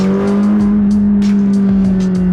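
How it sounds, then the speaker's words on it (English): Engine of a McLaren 600LT with modified suspension, heard from inside as a steady, loud drone with a constant hum, close and continuous without talk. "I love the roaring of the engine"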